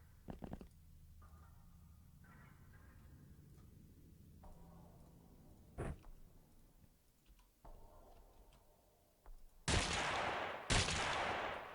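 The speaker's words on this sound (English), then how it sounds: "So it is like a nice little rocket launcher. Personal triple shot rocket launcher." Video game X-Piratez sounds: sparse clicks and short bursts give way to loud, sharp blasts and two heavy roaring discharges near the end, fitting a personal triple-shot rocket launcher firing.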